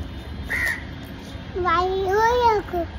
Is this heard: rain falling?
no